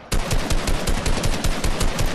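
Rapid bursts of gunfire in Fortnite, steady and loud, repeating continuously with no voices over the shots.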